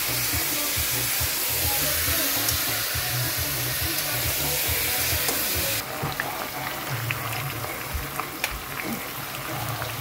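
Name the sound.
onions sautéing in pan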